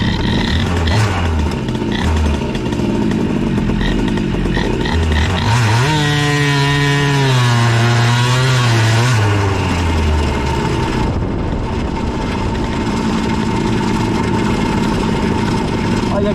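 CPI 70 scooter fitted with an Airsal kit, its two-stroke engine revving hard and rising in pitch, then settling back to a steady buzzing drone, loud and close throughout.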